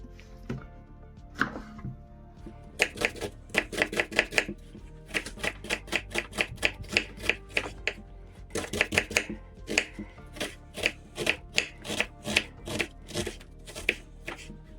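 A knife dices an onion into small cubes on a cutting board, crisp rapid chops arriving in quick bursts separated by short pauses, close and clear with no voices.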